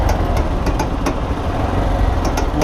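A hot motorcycle engine idles steadily up close, a loud, continuous low rumble with faint ticking on top and no talk over it.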